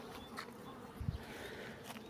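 Honey bees in a hive box during work with the upper body of the hive: a faint, steady insect drone close by, low in level, with a soft thump partway through.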